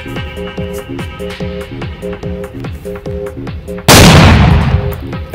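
A single loud shotgun blast in the Roblox game Buckshot Showdown, heard near and sudden after a quiet stretch of looping game music, with a noisy tail fading over the next second.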